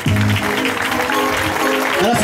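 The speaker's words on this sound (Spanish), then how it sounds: "¡Fuertes los aplausos!" Audience applause at a political speech in Xeatzán Bajo, Patzún, with dense continuous clapping filling the whole short stretch and voices mixed underneath.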